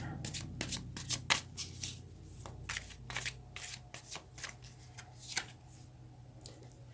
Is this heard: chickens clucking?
no